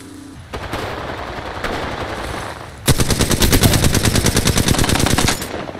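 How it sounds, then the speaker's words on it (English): Rapid automatic gunfire in the PC battle royale game Apex Legends, loud and close: a sustained rattling burst of weapon shots after a shorter stretch of scattered fire, no talking over it. "I'm taking shots. Opening fire."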